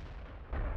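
Artillery fires in World of Tanks, a single deep, booming report that bursts in halfway through over a low steady game rumble, heavy in the bass and brief.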